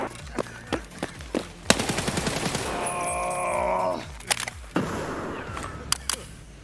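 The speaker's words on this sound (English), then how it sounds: "Oh, he's getting shot at too by somebody else." Rapid bursts and single gunshots ring out in Escape from Tarkov, including an SA58 rifle, with sharp cracks scattered across the clip and a sustained stretch of automatic fire in the middle, loud and close.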